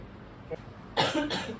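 A faint short sound comes first, then two close, forceful coughs from a hospital patient in quick succession.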